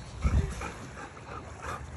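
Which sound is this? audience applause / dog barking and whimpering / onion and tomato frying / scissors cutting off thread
dog barking and whimpering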